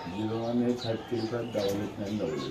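Several pigeons coo in soft repeated throaty calls at a pigeon farm, close by and overlapping, while people talk nearby.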